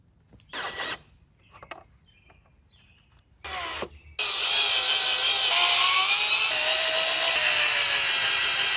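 Screws being driven into pallet wood for a goat hay feeder: a couple of short drill bursts with brief pauses, then a long steady whirring run of the power driver, close and loud, with no talk.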